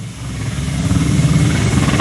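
Helicopter with a steady droning rotor and engine hum at moderate loudness, continuous and alone with no talking.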